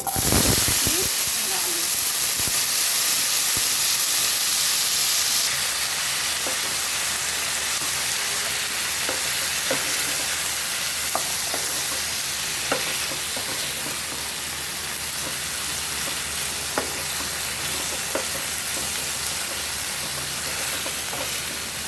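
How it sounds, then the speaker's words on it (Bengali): Panch phoron spices crackle in hot oil under a lid while green beans are being cooked, a steady broadband sizzle with scattered sharp pops, louder for the first few seconds and then settling to a softer, even hiss. "পাঁচফোড়নটা ফুটে যাতে বাইরে না পড়ে সেই জন্য আমি ঢাকাটা দিয়ে দিলাম"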